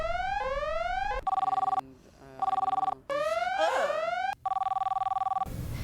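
A telephone rings loudly and close by in repeated electronic bursts of warbling, chirping tones, broken by brief pauses, with no one speaking over it.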